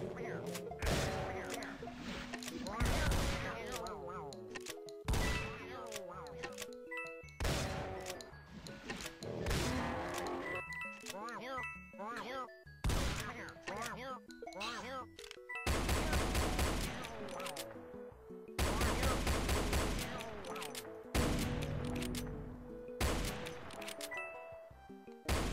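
Rapid weapon fire in the video game Doom (The Golden Souls 2), dense bursts of sharp shots in long runs with short gaps between them, loud and continuous over about twenty-five seconds and mixed with game music.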